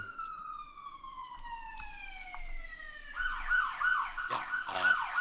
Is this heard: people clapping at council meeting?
no